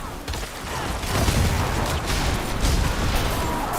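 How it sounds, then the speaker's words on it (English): Blood mist corpse explosion skill in Diablo 4 fires off as dense overlapping blasts and crunching bursts, a continuous loud clatter of game combat effects with no voice. "blood mist corpse explosion is kind of what we're playing right now."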